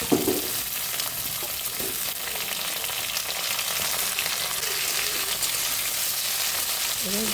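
Radish and ridge gourd frying in a pan for labra, a mixed-vegetable dish: a loud, continuous close-up sizzle with faint stirring movements and no voices.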